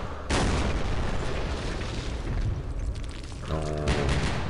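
Mortar shells exploding in a war video game set in the Middle East: a heavy boom opens into a long, rumbling roar that sustains for several seconds, with a further crackling impact near the end and no talk.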